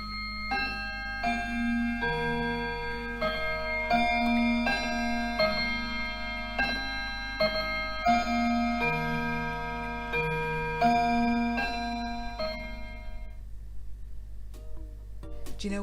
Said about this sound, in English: it was a clock chiming